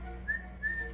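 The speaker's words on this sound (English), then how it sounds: "Blow the whistle." Whistle blown twice in short, clear, fairly quiet toots over a low steady background hum.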